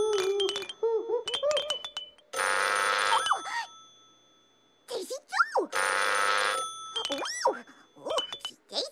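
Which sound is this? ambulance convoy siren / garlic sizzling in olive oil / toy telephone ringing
toy telephone ringing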